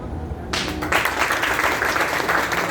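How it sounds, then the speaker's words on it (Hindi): Applause from an audience at a meeting in a hotel hall breaks out abruptly and holds as a steady, dense wash of many hands clapping. Quieter room sound comes before it, and no voices rise above the clapping. "सब लोग सही करके जोरदार ताली होनी चाहिए"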